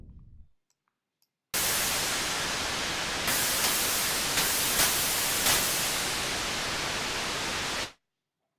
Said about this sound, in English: this synthesizer has white noise, red noise to the right, and pink noise in the middle